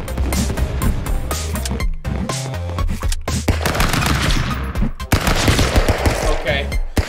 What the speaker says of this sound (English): That gun's spinning, bro!